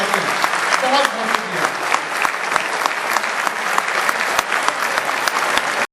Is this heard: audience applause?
yes